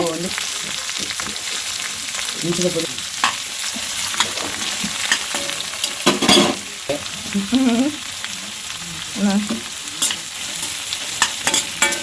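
Sliced onions sizzle steadily in a hot pan while a spoon stirs them, giving a constant frying hiss broken by scraping and clinking strokes, close and fairly loud.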